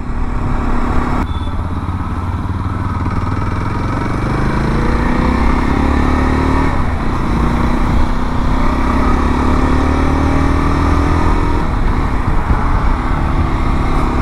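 A KTM Adventure 390 motorcycle being ridden, its engine droning loud and steady with rising pitch through several gear changes, wind and road rumble under it throughout.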